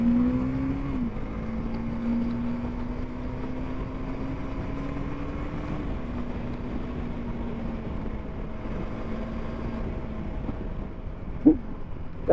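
A 2024 KTM Duke 390 Gen 3 motorcycle cruises on an open road, its engine drone holding a steady pitch with one brief drop and shift, under constant wind rush.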